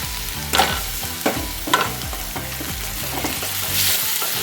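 Green chillies and garlic fry in a hot pan with a steady broadband sizzle, broken by several sharp scraping stirs of a spatula, close and fairly loud with no talk.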